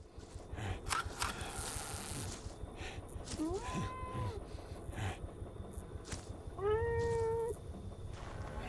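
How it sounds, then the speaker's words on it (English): Cat meowing in the video game Greyhill Incident: two distinct rising-and-falling meows a few seconds apart, the second louder and longer, over a steady game ambience with some rustling. "Is this Bob's cat?"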